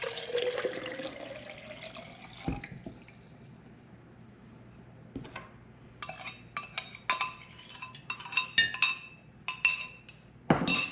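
Water poured from a container onto water kefir grains in a kitchen, a steady close trickle at first, then intermittent splashes and light clinks of glass or utensils.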